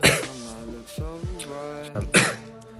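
A voice clears its throat several times in short harsh bursts, close up, between brief voiced sounds.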